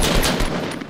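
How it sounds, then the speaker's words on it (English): A rapid burst of loud, sharp gunfire cracks from a Fortnite battle royale match, several shots packed into under a second with no talking. "Sniper shots."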